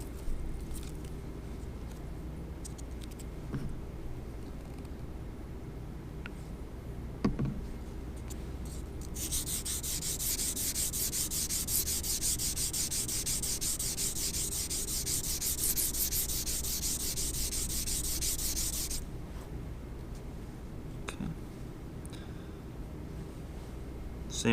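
A copper surface is wet sanded by hand with 400 grit abrasive, a steady close rubbing hiss swelling for about ten seconds in the middle, with quieter scuffs and handling before and after.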